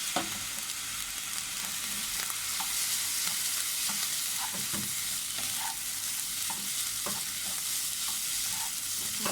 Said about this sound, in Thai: ผัดให้เข้ากันนะคะ ผัดให้น้ำพริกเผาเคลือบ เม็ดข้าวนะคะเคลือบเม็ดข้าว